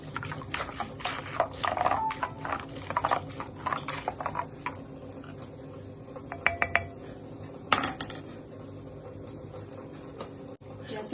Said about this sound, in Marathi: परत मिक्स करून घेऊया.